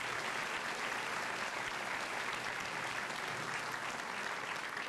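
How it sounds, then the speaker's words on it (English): A school senior assembly audience gives students a sustained round of applause, a dense, steady wash of many hands clapping from start to finish without talk. "Let's give these students"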